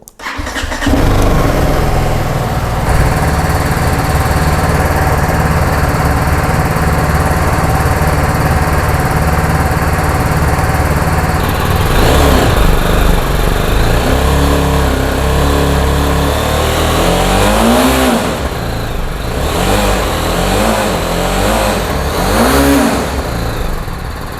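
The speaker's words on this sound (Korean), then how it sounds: "배기음 한번 들려보도록 하겠습니다. 시동 큐!" A BMW 310R motorcycle engine cranks and fires up, then idles with a deep, steady exhaust rumble, followed by several throttle blips rising and falling near the end.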